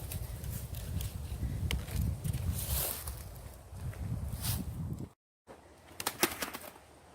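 Birds in a Tennessee state park aviary flutter and coo, with flapping wings and soft calls against steady outdoor background noise, then a brief dropout and a few sharper clicks.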